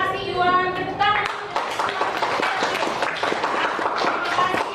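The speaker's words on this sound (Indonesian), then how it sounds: "Tepuk tangan." Classmates in a school lesson on the human movement system clap together after a student's question, a dense, steady burst of applause following a brief spoken word at the start.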